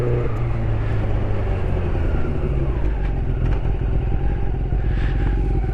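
A Honda CB400 Super Four 400cc motorcycle engine drones steadily at cruising speed, close and loud, with constant road and wind noise and no talking.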